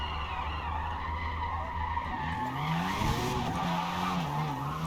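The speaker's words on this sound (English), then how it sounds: "I'm just trying to slide it around because it's an RX-7" A Mazda RX-7 drifting in a Forza racing game, its tires skidding in a long, steady screech over the continuous engine drone, with the engine pitch shifting as the car slides.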